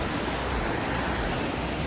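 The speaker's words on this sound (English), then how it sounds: "There's waterfall number 5." A waterfall near Mount Fuji in Japan pours steadily, a loud, even roar of falling water with no pauses or other sounds.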